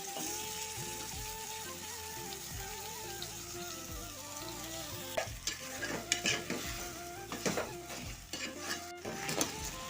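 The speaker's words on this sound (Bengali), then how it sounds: "এই তেলের মধ্যে হচ্ছে মাছের মাথাটা ভেজে নেবো" Steady sizzling of a fish head frying in hot oil, with occasional stirring clinks and scrapes of a utensil against the pan.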